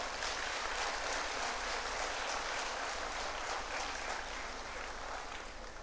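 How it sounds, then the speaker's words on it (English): Audience applause fills a centenary celebration of the FMA in India, a dense, steady wash of many hands clapping that stays loud and even throughout with no voices breaking through. "Please give her a round of applause,"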